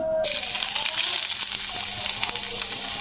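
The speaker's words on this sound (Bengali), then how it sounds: "তো চলো এবারে একে একে এগুলো ভেজে নিই" Chicken cutlets frying in hot oil in a wok give a steady, bright sizzle that holds close and loud from start to finish, with a faint voice underneath.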